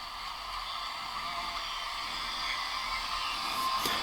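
Shortwave radio station KBC on 6095 kHz received on a short one-metre wire antenna, almost buried in steady hissing static with a faint tone rising near the end.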